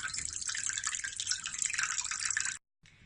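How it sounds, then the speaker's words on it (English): Filtered water poured steadily into a saucepan of dissolved sugar-and-salt water, a continuous close splashing stream that stops abruptly near the end, followed by faint drips. "I can fill it up the rest of the way with filtered water"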